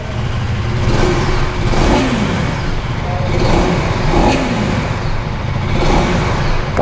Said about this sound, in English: You guys can hear the exhaust note.